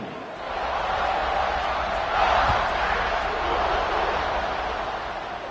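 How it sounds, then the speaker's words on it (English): A packed college football stadium crowd at a Georgia game buzzes after a score, a continuous loud roar of many voices that swells briefly in the middle and holds steady throughout. "this crowd is buzzing after that last score"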